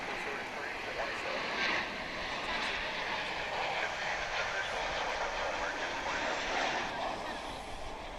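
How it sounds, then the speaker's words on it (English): An American Airlines Boeing 737-800 arrives at DFW International Airport, a continuous, fairly distant jet roar that stays level across the whole stretch. "American Flight 2343 coming in from Colorado Springs, a 737-800 model."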